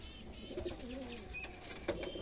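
Soft cooing of Madras roller pigeon chicks nearby, a few low warbling calls over quiet background noise, with a brief chirp partway through.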